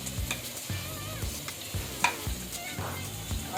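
Steady, rhythmic wet stirring and scraping as red chili, coriander powder, garam masala, turmeric and salt are whisked into yogurt in a bowl, fairly quiet and close, with no talking.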